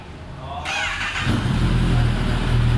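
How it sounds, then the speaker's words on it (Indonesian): A Kawasaki ZX-10R 2021 with an Arrow exhaust and dB killer fitted starts up and settles into a loud, deep idle with a throaty exhaust rumble, running steadily close by. "ini suara dengan DB killer"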